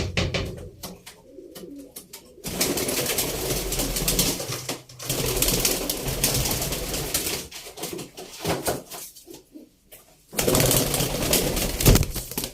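Pigeons coo in soft, repeated rolling calls, with rustling and occasional knocks in between, some bursts louder than others.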